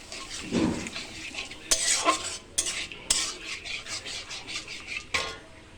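Rapid scraping and clattering of a spoon stirring paneer masala with sour curd in a pan, repeated rhythmic strokes with a light sizzle underneath, close and fairly loud.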